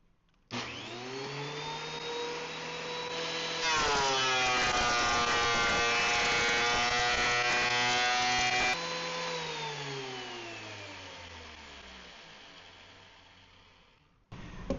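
A DeWalt DW734 thickness planer with a helical cutter head roars as a 6.5-inch-wide white oak board feeds through, its loud whine deepening while it cuts, peaking around 112 dB, then slowly winding down before a final clunk.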